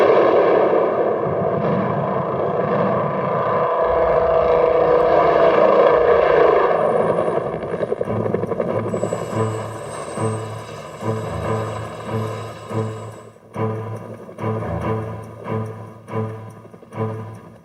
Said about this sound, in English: The distinctive sound of the rotor blades